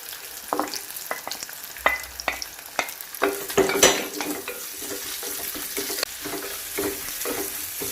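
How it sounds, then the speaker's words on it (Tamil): Sliced onions sizzling in hot oil in a pan for a coconut-milk fish molee curry, a steady close frying hiss with scattered stirring clinks and scrapes, no talking. "இதில் ஸ்லைஸ் பண்ணி வச்சுக்க வெங்காயம் சேர்த்துக்கலாம்."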